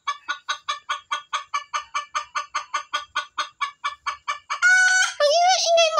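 A noisy chicken in a kitchen clucks close by in a steady, rapid run of about twenty sharp calls, then breaks into a louder, drawn-out squawking cackle at the end.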